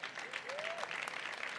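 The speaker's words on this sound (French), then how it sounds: "on peut encore les applaudir" Audience applause at a Nantes cycling and walking awards ceremony as prize winners receive their awards, steady clapping from a crowd throughout with a faint whistle-like tone rising briefly.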